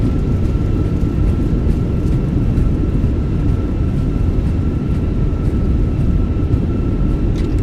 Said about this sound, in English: Nose down gently, reversers are out, decelerating.